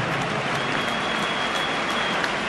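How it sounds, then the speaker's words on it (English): A rugby stadium crowd at the New Zealand versus Ireland match applauds in a dense, continuous wash of clapping that stays even and loud from start to finish. "Let's have a nice warm round of applause"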